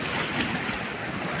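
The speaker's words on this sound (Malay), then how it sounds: "Tapi ombak, oh, sangat-sangat kuat, sangat padu." Strong ocean waves surge without a break beside a fishermen's jetty at Tanjung Rhu during a big high tide, a loud, dense roar that stays steady throughout, with no voices.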